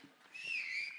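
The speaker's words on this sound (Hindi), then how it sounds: "जरा सीटियां बजा दीजिए।" Whistling rises from an audience at a Nagpur stage entertainment show, a single sustained high whistle lasting about a second, fairly clear over a quiet hall.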